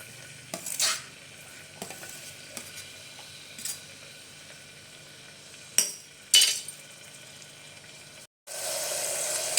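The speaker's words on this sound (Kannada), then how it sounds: "ಇವಾಗ ನೋಡಿ ಎಣ್ಣೆ ಬಿಸಿ ಆಯಿತು. ನಾನು ಈರುಳ್ಳಿನ ಹಾಕ್ಕೊಳ್ತಾ ಇದ್ದೀನಿ." Onions frying in hot oil in a pan, a faint steady sizzle with occasional sharp stirring scrapes and clinks of a spoon against the pan, then a louder burst of hissing near the end.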